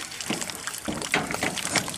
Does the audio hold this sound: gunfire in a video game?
no